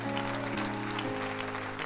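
A church congregation applauds, a steady wash of clapping from many hands at moderate volume, with sustained organ or keyboard tones held underneath.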